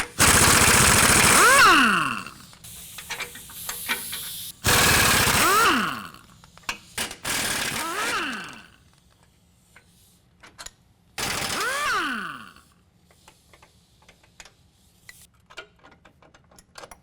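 Impact wrench bursts loosening 18mm bolts on the rear cross member of a 2016 Chevy Silverado 1500, four loud rattling bursts with descending whine as each stops, separated by quieter clinks and shop noise.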